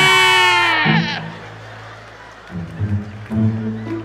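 A goat in the block-building game Mini World gives one loud, drawn-out bleat, followed by a pause and then two lower, shorter bleats.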